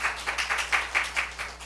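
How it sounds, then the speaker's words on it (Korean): A church congregation claps together in a quick, steady rhythm, about eight bright, close claps that fade slightly toward the end. "우리 하나님께 박수 올려드려요"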